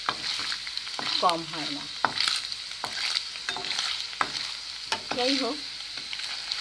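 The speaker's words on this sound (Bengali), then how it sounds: "আমি এখন এটাকে একটু লালচে করে ভেজে নিচ্ছি।" Paneer pieces shallow-frying to a reddish colour in a pan with little oil, a soft continuous sizzle with occasional clinks of stirring, while someone talks over it.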